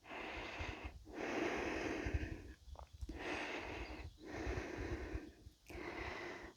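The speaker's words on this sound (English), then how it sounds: "Breathe in, breathe out." Deep, audible breaths during a vinyasa yoga flow, several slow inhale-exhale cycles with brief pauses between them, close and fairly loud over a low rumbling background.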